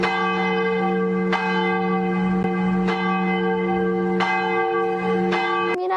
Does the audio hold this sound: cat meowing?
no